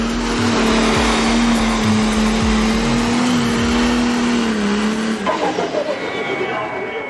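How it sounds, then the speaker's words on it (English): Pulling trucks and modified tractors at a tractor and truck pull event at the 300 Raceway in Farley, Iowa, engines revving in a loud, steady drone with a sustained pitch that drops and shifts near the end. "4-wheel drive trucks, super farm tractors, the exciting mini rods, the powerful modified tractors, the modified 2-wheel drive trucks"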